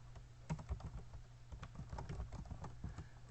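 Typing on a computer keyboard, a steady run of quick, close key clicks with an irregular rhythm and no voices.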